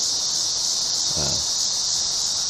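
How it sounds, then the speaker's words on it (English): A constant high-pitched insect drone of cicadas at a zoo in Billings in summer fills the air, loud and unbroken, with a brief low rustle partway through. "And the cicadas, you can really hear them right now."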